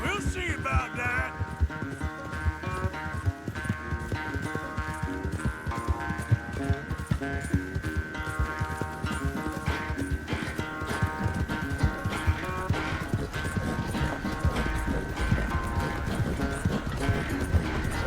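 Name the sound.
horses galloping in a race, video game Red Dead Redemption 2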